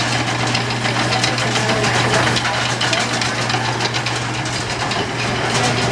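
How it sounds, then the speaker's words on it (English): A small electric motor drives the automatic gate of a freight elevator in the Mark Twain Brewery, giving a constant, fairly loud mechanical hum with a faint rattling texture and no speech. "This little motor right here runs it off."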